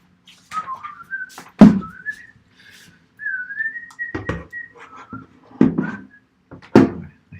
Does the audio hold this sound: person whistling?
yes